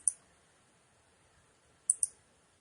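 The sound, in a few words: clicking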